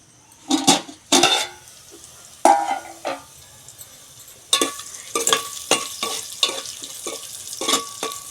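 Onions frying in a pan over a wood-fired stove are stirred in uneven bursts, with scraping clatters and soft sizzling between strokes, close and fairly loud.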